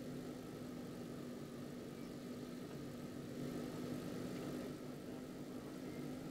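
A small rusty car engine in the Roblox game A Dusty Trip drones steadily throughout, a constant mid-pitched hum with a faint tonal whine and no talking over it.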